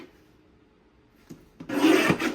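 A paper trimmer slices a sheet of 12x12 patterned paper for a memory wallet: a short, loud, raspy cutting stroke after a near-silent pause, with a light tap just before.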